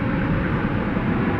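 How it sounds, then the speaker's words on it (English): An Airbus A321 takes off at DFW at night, its engines a loud, dense, continuous roar across the whole moment. "American Flight 446 to San Francisco, an Airbus A321 is taking off about 45-50 minutes after its scheduled departure."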